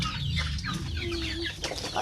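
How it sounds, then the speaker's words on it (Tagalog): Chicken clucking close by in an outdoor Filipino yard, a few short clucks and a brief tonal call over steady rustling background noise, no talk. "Oo, yan o, ibon."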